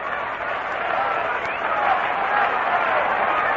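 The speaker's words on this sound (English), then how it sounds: "Enthusiastic crowd backing up the Mets now, hoping they can get it going against Drysdale" A big crowd at a 1962 baseball game between the New York Mets and Don Drysdale's team, a steady, dense roar of many voices that holds throughout with a slight swell toward the end.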